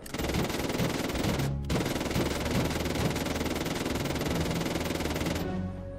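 Sustained automatic gunfire in the video game Unturned hammers at a wall, a dense, loud, continuous stream of shots broken by one brief pause, with no talking.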